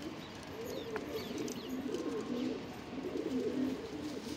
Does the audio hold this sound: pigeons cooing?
yes